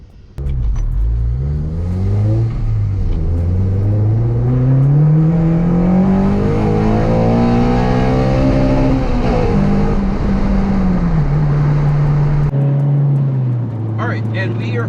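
A 9th-generation Honda Civic Si pulls hard around a race track, its engine revving up through a long rising sweep, then easing back and holding steady. The engine is loud and close, and a driver talks over it.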